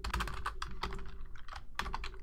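Rapid bursts of keystrokes on a computer keyboard, close and fairly quiet, typed in quick clusters with short pauses between them and no voices.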